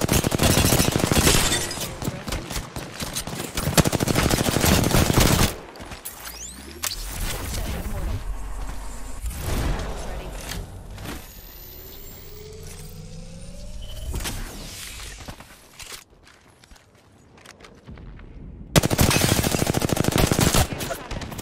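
Loud automatic gunfire bursts in the video game PUBG, heavy volleys at the start and end with quieter, distant shots and rumbling in between.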